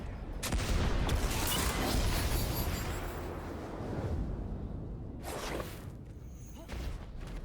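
Cannon fire during a Destiny 2 Grasp of Avarice run: dense bursts of blasting and whooshing impacts crowd together near the start, then ease into lower rumbling with a few more sharp hits later on.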